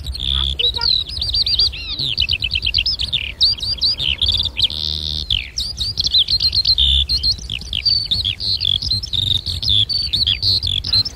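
Yellow-bellied siskins chirp and twitter busily in an aviary, close and loud, with rapid high trills and tweets overlapping almost without pause, plus a brief buzzy call in the middle.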